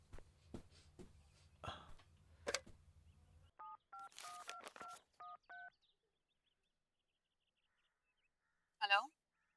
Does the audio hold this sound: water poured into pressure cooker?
no